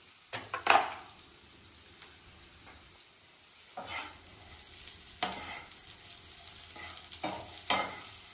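Chicken curry filling for chicken rolls frying in a little oil in a pan, with a sharp stir and clatter near the start and a few more scraping stirs over a soft steady sizzle.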